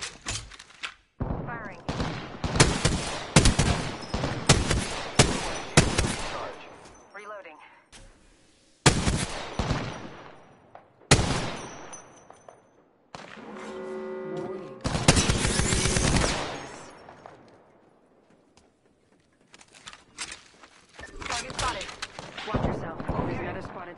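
A PS4 video game shootout with heavy automatic gunfire in loud rapid bursts, broken by short pauses and sharp single blasts, with voices heard among the shots.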